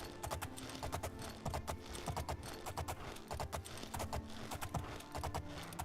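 Horse hooves clip-clop in the video game Oblivion, a quick, even rhythm of sharp hoof strikes repeating in steady groups, fairly quiet and alone.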